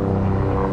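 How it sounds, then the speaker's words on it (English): A police helicopter flies directly overhead at a sheriff's deputy's funeral outside an expo center, its rotor and engine making a loud, steady, broadband drone. "The Air One helicopter directly above us right now."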